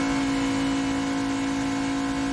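ARCA stock cars run side by side into turn one at Michigan, their engines blending into a dense, steady roar with a strong sustained tone, heard at a distance and without voices.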